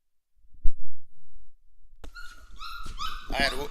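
A puppy gives a few faint whimpers and thumps, then breaks into louder whining yelps and barks toward the end.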